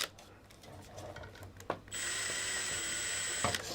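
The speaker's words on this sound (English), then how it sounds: "So I'm drilling with a 3mm drill here." A 3mm bit drills through a PC case panel, a steady whining buzz starting partway in and running continuously to the end, fairly close, after a stretch of scraping and handling noise.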